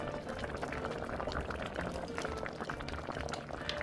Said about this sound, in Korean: 뚜껑 닫아서 약 10분에서 15분 끓이는 중간중간에 양념을 끼얹어 주면서 졸입니다